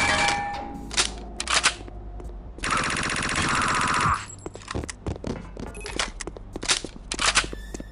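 Gunfire in the video game Chaser: scattered sharp single shots, then a dense rapid automatic burst lasting over a second, followed by more irregular loud shots and impacts.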